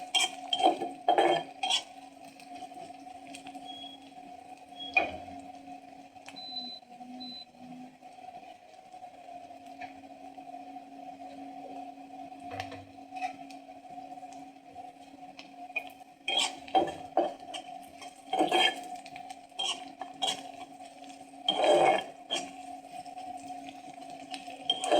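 A metal utensil stirs flat beans frying in a pan, making intermittent clinks and scrapes in scattered bursts over a low steady hum, fairly close, with no talking.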